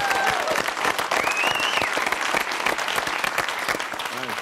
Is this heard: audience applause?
yes